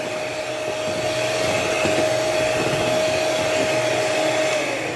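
An electric mixer blends a mango ice cream mixture with a steady, even motor whine that holds without a break and then eases off near the end.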